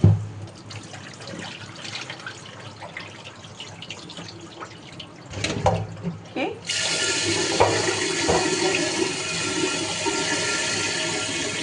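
Rice is washed in water in a home kitchen. Soft sloshing and dripping come first, then a louder splash and a steady rush of running water that continues to the end.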